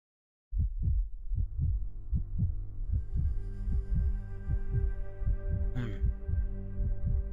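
Heartbeat sound effect in the video game Snowbreak, a steady series of deep, booming thumps that begins abruptly and continues at an even, fairly quick pace, joined partway through by a sustained tonal hum and a brief higher swish.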